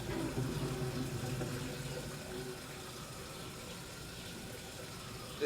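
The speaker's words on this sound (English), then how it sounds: "Yeah, go ahead, flush it again." Toilet flushing in a house during a sewer drain backup test, a soft rushing gush of water that starts fuller and then settles into a quieter steady trickle, heard alone at moderate distance.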